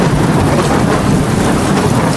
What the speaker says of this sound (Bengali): কিছুক্ষণের মধ্যেই তীব্র ঝড় ও বৃষ্টি শুরু হয়ে